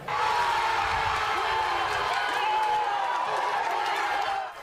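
A club of Croatia football fans cheering during a match against England, a dense, sustained roar of many voices singing and shouting together at steady volume before fading at the close.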